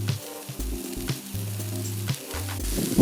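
Burger patties sizzle steadily on a grill, a continuous loud crackling hiss with low pulsing hum underneath and no voices.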